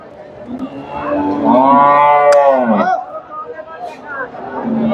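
A Friesian dairy cow at the Dhaper Hat cattle market in Bogura lets out one long, loud moo lasting over a second, with faint crowd chatter and market noise around it.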